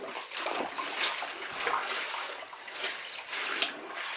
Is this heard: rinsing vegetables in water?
yes